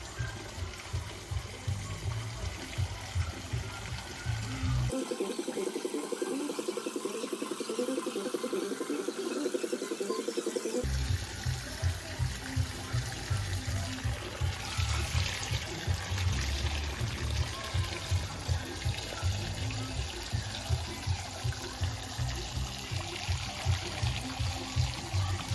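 Rainwater pours steadily into a container filled with leaves, a continuous splashing flow that briefly deepens into a heavier, fuller gush midway before returning to a rhythmic, pulsing trickle.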